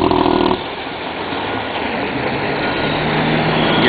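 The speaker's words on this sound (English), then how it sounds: "Here comes a truck." Heavy truck hauling asphalt arriving at an airport paving job, a loud continuous engine drone and rumble close by, steady throughout after a brief louder start, no talking.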